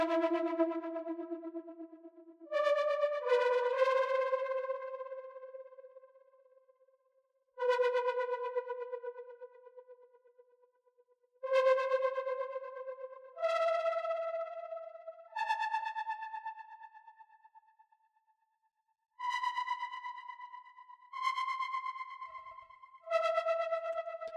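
A melodic techno synth lead plays a simple, bright melody of sustained, rich tones. Phrases of a few notes each are separated by short gaps, with a soft echo tail and no voices.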